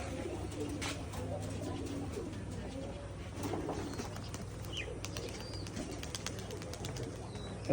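Rajshahi Giribaz pigeons cooing in a loft, soft low repeated coos over a constant hum, with faint chirps and brief wing flutters, and a voice speaking quietly in the background.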